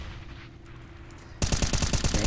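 Rapid automatic gunfire erupts abruptly in a Counter-Strike pro match on the Cobblestone map, a loud, evenly spaced burst of shots following a quieter stretch of game ambience.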